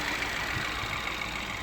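A car engine, likely a Mitsubishi ASX with a suspected timing-chain problem, runs steadily at idle in a workshop, a continuous close mechanical hum with a faint rhythmic flutter and no talk.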